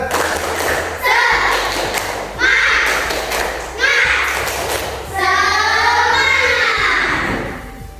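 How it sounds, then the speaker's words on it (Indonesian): Schoolchildren in an Indonesian classroom perform a spirited rhythmic clapping chant, with four loud bursts of claps and thumps in a patterned beat, the last one longer, with children's voices mixed in. "coba tepuk semangat"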